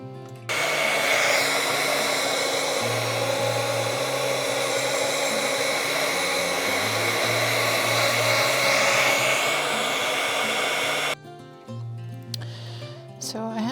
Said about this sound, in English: Now I'm gonna kind of heat dry this and let that set up.